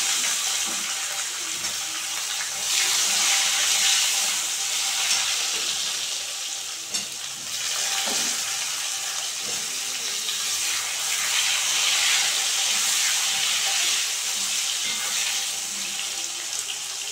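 Eggplant pieces frying in hot oil with black cumin seeds: a dense, steady sizzle close to the pan, with a few stirring knocks and no voices.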